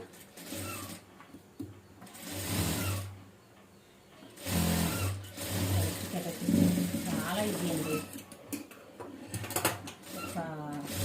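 A sewing machine stitching blouse cloth runs in several bursts of quick mechanical whirring and needle clatter, with someone talking between and over the stitching.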